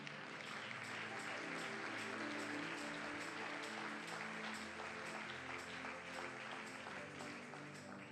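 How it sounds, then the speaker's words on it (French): A church congregation applauds and cheers for the Lord in a dense, continuous wash of clapping with scattered voices, steady and full throughout, with no speech standing out. "On acclame pour le Seigneur."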